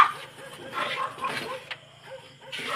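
A tied-up dog barks and whines in short, repeated bursts at moderate distance, uneven in rhythm and loudness, over a faint background.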